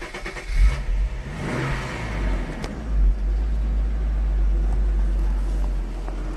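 A warm 1989 Jaguar XJ-S 3.6 manual idles steadily with a deep, even low rumble, close by, with a brief blip early on and otherwise a constant ticking-over hum.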